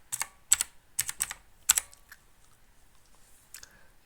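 Keys clatter on a computer keyboard in short bursts of typing, with crisp clicks clustered at the start and then sparser taps trailing off, close up and alone.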